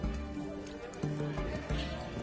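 A horse in The Witcher 3: Wild Hunt – Hearts of Stone, with faint, muffled hoof clip-clops in an uneven rhythm under low background music.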